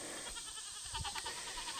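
Goats penned in woodland bleat in a few short, overlapping calls at close range over steady outdoor background noise, with no talking.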